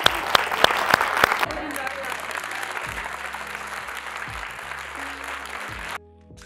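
An audience breaks into applause at a talk, sharp scattered claps first, then a steady crowd clapping that holds for several seconds before cutting off abruptly.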